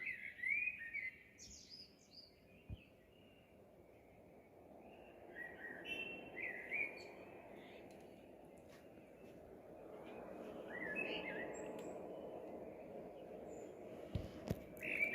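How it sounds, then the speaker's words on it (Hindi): Scattered bird chirps and tweets repeat over a quiet outdoor background in Italy before dawn, soft and somewhat distant, with a faint low hum underneath. "ये चिड़ियों की आवाज़ सुने कितनी प्यारी लग रही है"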